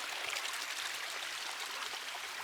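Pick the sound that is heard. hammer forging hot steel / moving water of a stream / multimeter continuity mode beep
moving water of a stream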